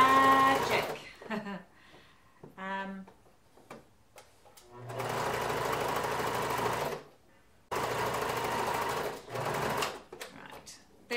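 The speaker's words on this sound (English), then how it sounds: "I'm stitching on top of it" A sewing machine top-stitches along a sweatshirt edge in two long steady runs of rapid mechanical whirring, close and clear, with short bursts and someone talking in between.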